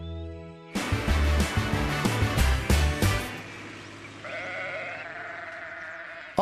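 Sheep bleat on a children's animated farm show. Several wavering calls come over a bouncy musical score with percussive hits, and the music carries on after the bleats.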